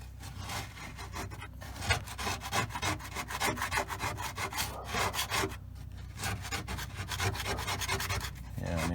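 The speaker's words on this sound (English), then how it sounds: "just scraping it alone, it's right down to the fiberglass" A C1 Chevrolet Corvette gas tank being scraped down to the fiberglass, with continuous rough rasping strokes in quick succession, fairly close and steady, with no talking.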